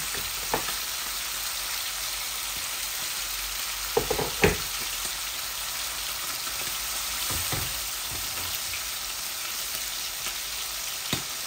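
Onions and spices fry in a small amount of oil in a pan, a steady close sizzle running throughout with a few brief clatters of stirring and no voices.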